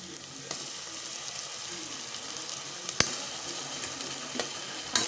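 Ginger garlic paste frying with onions and green chillies in a pan, a continuous close sizzle broken by a few sharp spoon clicks against the pan, with no voices.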